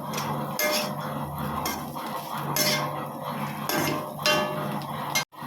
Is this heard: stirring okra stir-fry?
yes